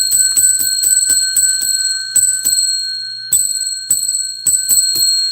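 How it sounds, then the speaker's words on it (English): A small ringing bell is struck again and again in quick bursts, each strike leaving a bright, sustained metallic tone, loud and close with short pauses between the groups of rings. "Got to ring the bell 10 times."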